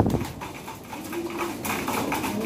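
A racing pigeon drops into the loft trap as the last bird home from a first-lap derby in San Andres, with close fluttering wing noise and soft coos over a busy outdoor background.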